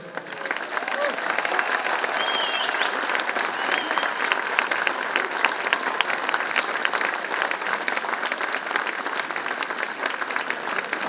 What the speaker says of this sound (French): Mais ces applaudissements s'adressent évidemment également à son Altesse Sérénissime, le Prince Albert II et sa famille.